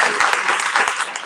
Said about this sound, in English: Can we get another round of applause for Lindsay and Angel?